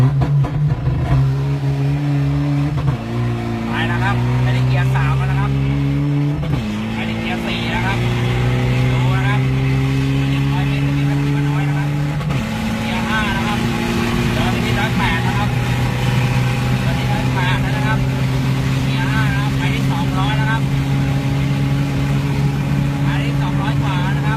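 A customer's tuned car revs hard on a test drive, its engine note climbing through several gear changes with drops between pulls, loud and close, while someone talks over it.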